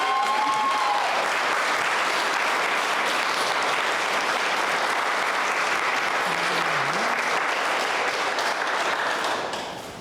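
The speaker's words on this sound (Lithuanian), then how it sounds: "Aplodismentai jaunikai." Wedding guests applaud the groom at an office-style ceremony, a dense, steady roar of clapping filling the room from start to finish before tapering off at the very end.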